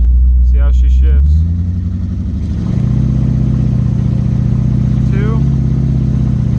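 A 1985 C4 Corvette running open headers shifts gears, its loud, close exhaust rumble dipping and climbing again between shifts while a person talks briefly over it near the start.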